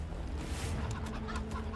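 Cyborg chicken fitted with metal-plated electronic implants clucks steadily in Wasteland 3, close and continuous over a dense ambient game soundscape.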